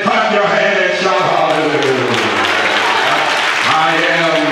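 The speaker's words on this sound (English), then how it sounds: "Clap your hand and shout" A church congregation at a conference sermon claps hands in a continuous loud patter, mixed with voices shouting and singing over the clapping.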